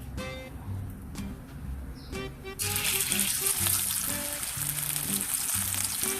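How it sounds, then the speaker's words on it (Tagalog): Sagisi fish coated in salt and flour frying in a pan, a steady close sizzle that swells loudly partway through and then holds as a dense crackle with some faint background clatter. "Ipiprito ko muna yung isdang sagisi"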